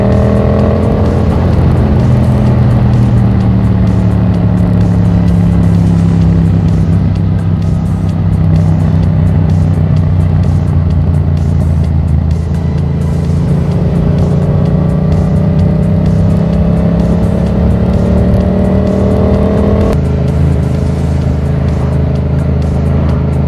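A Yamaha MT-07 motorcycle engine runs loud and steady for the whole stretch, its pitch rising and falling through revving swells with a sharp shift near the end; exhaust pops are not clearly separable from the continuous drone.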